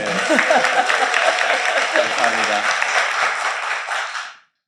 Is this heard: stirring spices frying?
no